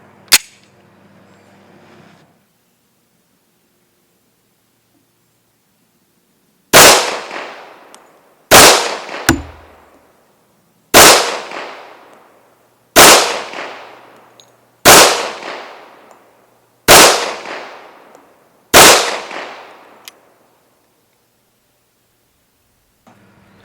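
A TISAS 1911 .45 ACP pistol fired outdoors in a slow string of about seven sharp, loud shots spaced roughly two seconds apart, each followed by a decaying echo, with quiet gaps and an isolated shot at the start.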